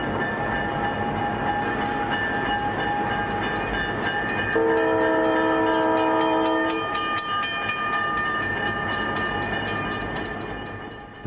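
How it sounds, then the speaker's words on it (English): A diesel passenger train departing Denver rumbles along steadily with a horn sounding in a long blast partway through, wheels clicking over rails afterward. "the train makes its 8:35 a.m."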